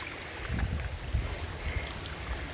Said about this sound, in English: a little brook running through here